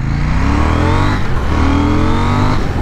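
A KTM Duke 790 motorcycle pulls hard through its gears on a state highway, a loud, close engine roar with rising pitch sweeps as it revs up and shifts. No one talks.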